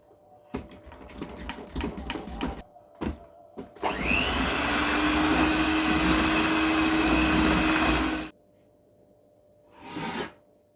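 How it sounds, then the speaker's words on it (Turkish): An electric mixer whisks cake batter of milk, oil, cocoa and flour for a brownie-style cake, starting with a few short bursts and clatters, then whirring steadily for several seconds before stopping, with one brief burst after. "Hepsini güzelce çırpalım."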